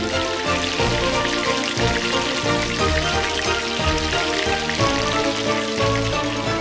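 Beef sizzles and crackles steadily in hot oil at a Caloocan street food stall, a loud continuous hiss with no voices.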